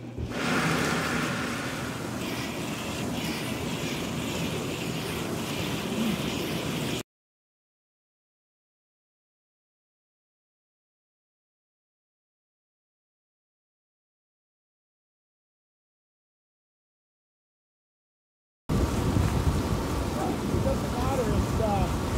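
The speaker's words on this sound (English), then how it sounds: "then you turn jets on with the aerators on, the bubbles, for about 30 minutes" Hot tub jets run with the aerators on, a dense steady hiss of bubbling, churning water that drops out to silence partway through and then returns just as strong.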